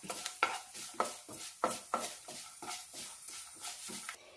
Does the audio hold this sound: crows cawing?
no